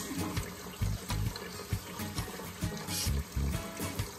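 Tap water runs and splashes steadily over hog maws being rinsed and cleaned, with uneven gurgling bursts as the flow hits the meat, close by and without talk.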